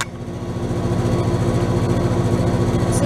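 A 2018 Goodman GSZ14 3-ton heat pump runs in heat mode, giving a steady, close, droning mechanical hum with a low, even pulsing throughout and no voices.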